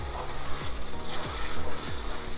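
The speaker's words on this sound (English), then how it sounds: "So I'm gonna let it fry for like 7 more minutes" Liberian rubbed greens sizzle steadily in hot oil in a pot, with a soft scraping stir recurring at a regular rhythm.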